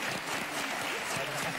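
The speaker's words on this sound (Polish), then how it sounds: "I brawa dla Natalii." Steady, dense clapping from a game show studio audience fills the whole stretch, loud and continuous without a break.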